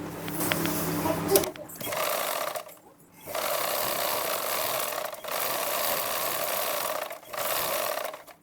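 Sewing machine stitching the back part of a lined blouse, running in steady bursts of a continuous whirring motor with brief pauses between runs, close and fairly loud, with some talking at the start.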